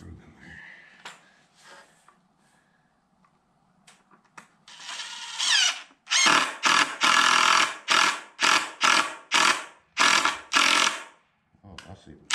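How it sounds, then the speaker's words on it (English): Power drill driving screws into leftover wood while building a milking stanchion, a series of loud whirring bursts of about a second each with short pauses between, preceded by quieter handling noises and brief talk. "Start screwing in there."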